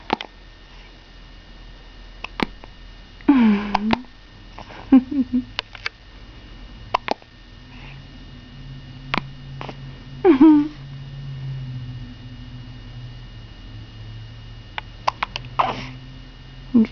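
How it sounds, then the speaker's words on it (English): A newborn baby hiccups in short, sharp bursts scattered irregularly across the stretch, with quiet gaps between them and a soft adult voice murmuring in the background. "What are those hiccups all about?"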